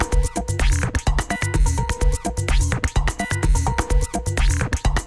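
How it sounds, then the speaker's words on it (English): Techno music built from a few layered loops, with a steady kick-driven beat, clicky percussion and repeating synth stabs playing continuously and loud, no voices. "So just a bit of a techno thing going on."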